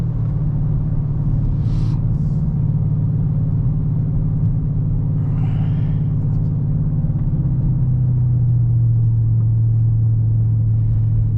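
A car cruising along Niagara Parkway, its steady low engine rumble and road noise carrying on continuously, with a brief faint sound rising above it now and then.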